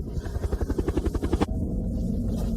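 Helicopter rotor blades beat in a fast, loud, rhythmic chop that stops abruptly, leaving a steady low rumble behind it.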